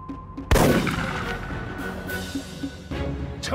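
A signal flare launches with a sharp, loud bang, followed by a rumbling tail and a second burst of noise later, set in a wartime scene with Japanese soldiers in a mountain village.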